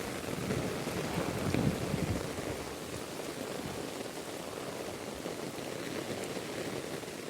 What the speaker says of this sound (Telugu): ఇదిగో వర్షం అండి.